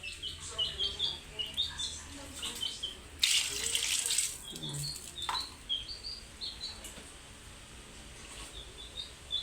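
Water poured from glasses into a pot of clams for cooking, a short gushing splash midway amid soft kitchen clatter, with birds chirping in the background and a voice speaking.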